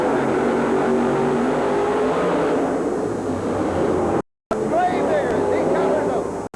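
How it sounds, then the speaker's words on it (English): Engine of the Gravedigger monster truck with its big blown motor racing at a 1988 monster truck event, a loud continuous roar under an announcer's voice and crowd, briefly cut off near the end before resuming. "He's running the big blown motor of the Gravedigger."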